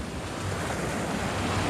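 Sea waves wash steadily onto Chaweng Beach on Ko Samui, Thailand, with the water surging high, making a continuous broadband roar of surf mixed with some wind noise on the microphone and no voices.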